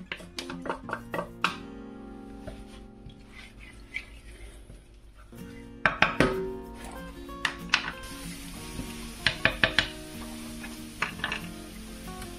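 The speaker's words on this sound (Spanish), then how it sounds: "vamos a echar un poquito de aceite. Y vamos a poner ya los ajos." Garlic frying in oil in a pan for a quick rice dish: a soft, steady sizzle with sharp clinks and knocks of a utensil against the pan.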